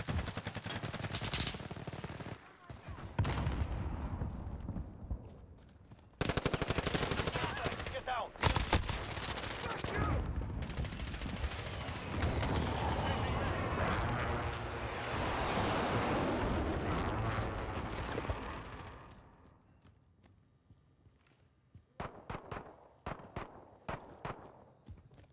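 Dense automatic gunfire from a Call of Duty Modern Warfare team deathmatch on Al-Raab Airbase, with AS VAL and M19 weapons: loud sustained bursts and rattling volleys, then a quieter stretch with scattered sharp shots.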